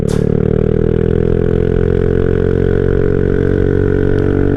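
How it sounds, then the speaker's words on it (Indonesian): A motorcycle's loud aftermarket exhaust drones steadily while riding on a winding mountain road before dawn, a constant rich engine note close to the rider with no voices. "Wah, ini knalpotnya lumayan bacot juga nih ya."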